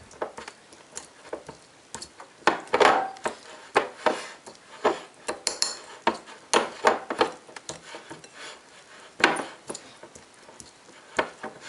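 A utensil mashes capers alone in a bowl for tartar sauce, giving irregular soft thuds and squishy presses that come close and fairly loud, in uneven bursts with short pauses between them.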